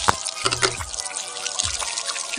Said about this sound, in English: Now you can see water coming out from the hole.